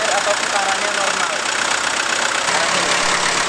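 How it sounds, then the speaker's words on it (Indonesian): A diesel engine idling at steady, normal revolutions, a continuous broadband rumble held at constant level throughout, with faint voices under it. "Usahakan mesin dalam keadaan stasioner atau putarannya normal."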